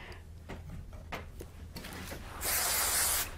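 A short hissing burst from a spray can coats a card backing in a quiet craft room, a brief loud spray that follows some faint handling noises.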